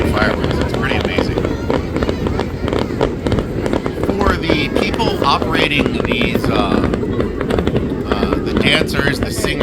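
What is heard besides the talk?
fireworks at the Nebuta festival in Aomori, Japan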